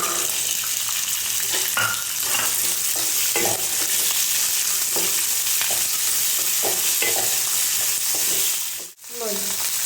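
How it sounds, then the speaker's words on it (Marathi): Peas tossed into hot oil with garlic cloves and four green chillies fry with a steady, loud sizzle, broken by occasional scraping stirs and a brief dip near the end. "यात मी लसणाच्या बाकड्या टाकल्या यात मी आता चार मिरच्या टाकल्या आता हे बघा हे मटर यात मी टाकतो"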